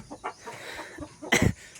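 Fighting cocks kept in a backyard pen give a few soft, scattered clucks, then one louder, squawking call near the end, close by and brief.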